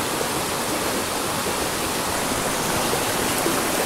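A small waterfall spills into a trout stream, giving a steady, loud broadband rush of falling water that holds even from start to finish with no voices.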